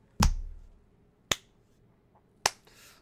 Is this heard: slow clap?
yes